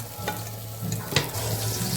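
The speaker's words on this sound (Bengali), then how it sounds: "এদিকে আমাদের বেগুন ভাজার জন্য বেগুনটাও ভাজা হয়ে যাচ্ছে" Eggplant halves frying in oil in a pan give a steady close sizzle with a couple of brief clinks or stirring scrapes.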